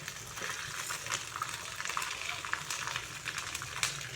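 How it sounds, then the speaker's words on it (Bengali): Pieces of katla fish shallow-frying in hot oil, giving a steady, close crackling sizzle with small pops throughout. "মাছগুলোকে এপিট ওপিট ভালো করে একটু ভেজে নিতে হবে, একটু লাল লাল করে"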